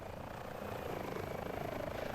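An H145 helicopter in a video game drones with a faint steady rotor and engine hum, a soft continuous whir with slight rhythmic pulsing and no talking.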